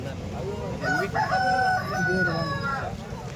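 An Andhra breed rooster lets out one loud, drawn-out crow close by over steady background noise, with faint clucking around it.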